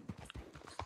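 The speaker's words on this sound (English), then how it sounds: "This horse is so slow" Horse hooves clip-clop in the Red Dead Redemption 2 video game, a quick uneven series of close hoof strikes over less than a second.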